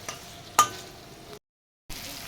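Fish curry spice paste with taro and potato is stirred in a pan, giving soft sizzling and scraping with a sharp clank of the utensil early on, then a short cut to silence before the frying resumes.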